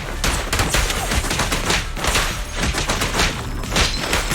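Sustained gunfire in the video game Zenless Zone Zero, loud and close, with rapid overlapping shots and booming impacts forming a dense continuous barrage.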